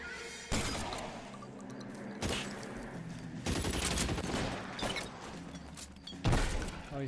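Shotgun gunfire in the video game LA Noire: repeated heavy blasts crash through a dense, loud gunfight, with bursts and booms layered over constant noisy action.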